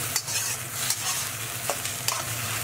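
Tomato and egg stir-frying in a pan over medium heat, a steady close sizzle with a few sharp scraping stirs of the spatula spaced through it, no voices.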